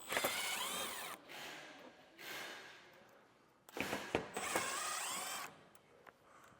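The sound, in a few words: socket removing skid plate screws on Jeep Gladiator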